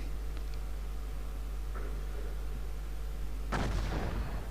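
A single heavy cannon blast from Hougoumont Castle in the Cossacks 2 battle game bursts in near the end over a steady low hum and faint clicks.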